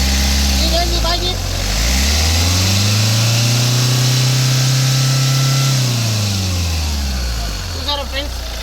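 A 2009 Hyundai i20 petrol car engine runs close by, idling and then rising into a held rev before settling back, a steady drone with a faint voice at the edges.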